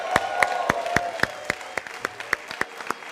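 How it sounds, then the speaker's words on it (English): Wedding guests clap for Mr. and Mrs. Gohil in a steady, enthusiastic round of applause, with sharp, evenly spaced hand claps standing out near the microphone over a background of crowd clapping and cheering. "Your blessings come in the form of an enthusiastic, loud cheer and round of applause."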